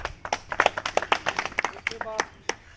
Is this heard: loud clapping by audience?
yes